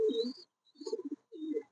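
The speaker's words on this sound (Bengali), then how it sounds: "অনেক সুন্দর এক জোড়া কবুতর।" A pair of large domestic pigeons, each about half a kilo, coo up close in three short, soft, throaty phrases separated by brief silences, in a quiet setting.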